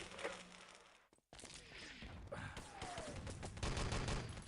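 Gunfire in a first-person shooter video game, dense continuous bursts of shots layered with game effects at a fairly faint level.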